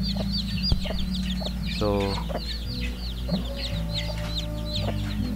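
Several brooding mother hens clucking nearby in short, repeated bursts, with an occasional longer drawn-out call among them over a constant low hum.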